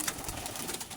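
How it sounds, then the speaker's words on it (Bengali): Pigeons in a loft housing several fancy breeds give soft, low, rolling coos, faint and somewhat distant over a brief stretch, with no talking. "আজকে আমার মামুর কবুতর লফটে আসছি"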